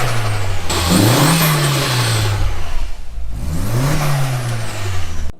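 A car engine runs loud and close, rising and falling in two uneven revs with a rough, unsteady tone before cutting off abruptly.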